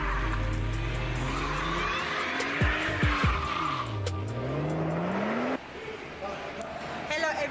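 A BMW M140i spinning its wheels, tires squealing in long wavering shrieks over a revving engine, loud and close, with brief tonal sweeps as the squeal rises and falls.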